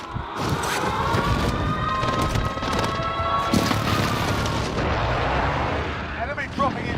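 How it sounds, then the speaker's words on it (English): Precision airstrike explosions in a battle royale video game, heavy booming blasts and rumbling crashes filling the whole stretch, loud and continuous, with a voice speaking partway through. "Enemy precision airstrike."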